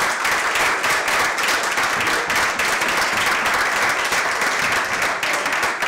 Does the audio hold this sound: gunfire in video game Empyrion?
no